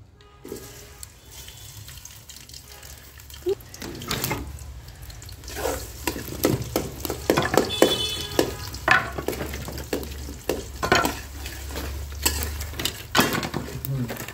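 Chopped onions go into hot mustard oil in a pot over a clay stove for a beef curry, bursting into a growing crackling sizzle with clinks and stirring scrapes, close and busy.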